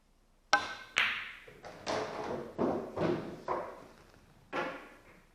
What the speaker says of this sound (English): you don't want to hit the cue ball too hard, that after it hits this bottom rail, the cue ball will just roll right past the head string